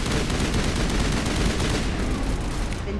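Shotgun fire in Mass Effect Legendary Edition on Noveria, a continuous loud crackle of rapid blasts and combat noise packed tightly together for a few seconds, with no voices.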